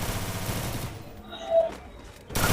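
Gunfire from the video game Free Fire played on a phone, a brief burst of shots heard between noisy stretches, fairly loud and close, with a short tonal game sound in the quieter middle.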